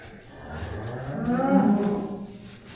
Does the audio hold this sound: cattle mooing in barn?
yes